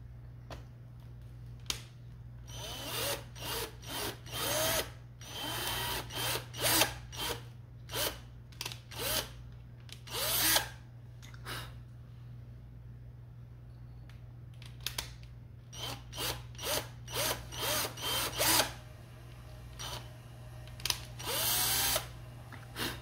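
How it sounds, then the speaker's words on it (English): A power drill pre-drills holes, heard close in repeated bursts of harsh, grinding noise with short pauses between them, over a steady low background hum. "I'm pre-drilling some holes."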